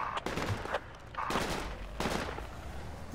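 Bursts of gunfire crackle in the Project Reality combat game, several short volleys of varying loudness spaced across a few seconds with no talk over them.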